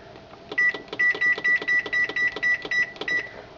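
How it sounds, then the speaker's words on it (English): A kitchen timer being set while baking snickerdoodle cookies gives a rapid run of about ten loud, clear electronic beeps in a steady rhythm, close and alone. "So I will set the timer,"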